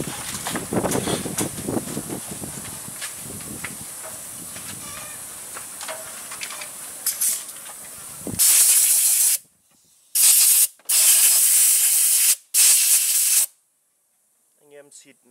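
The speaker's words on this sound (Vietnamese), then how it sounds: "Anh em xịt nó thông được hết cái này ok nhá." Cleaner sprays onto a motorbike throttle part in several loud, close hissing bursts of varying length, separated by short silences, after a stretch of quieter background noise and clatter.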